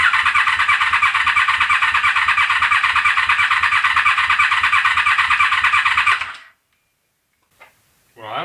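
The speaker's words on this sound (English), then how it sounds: "We'll try to crank it, and it's going to crank for a while" Honda VFR750F motorcycle on its stand cranks for about six seconds with a fast, even starter whir that does not catch and then stops, leaving silence broken by a brief voice.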